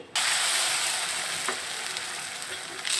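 Shrimp paturi wrapped in bottle gourd leaves and dipped in batter frying in hot oil, a loud, steady, close sizzle that bursts on abruptly and crackles on without a break, no voices.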